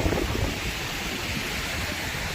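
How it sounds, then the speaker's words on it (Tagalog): Strong typhoon wind sweeping across Manila Bay, a loud continuous roar buffeting the microphone, with a heavier gust at the start before settling into a steady rush. "Lakas ng hangin."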